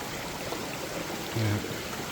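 A forest stream near a waterfall runs in a steady, even wash of flowing water with a brief low bump partway through, constant and fairly close with no talk.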